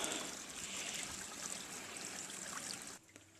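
Water gushes steadily from a burst pipe into a flooding flat, a continuous hissing rush that stops abruptly near the end.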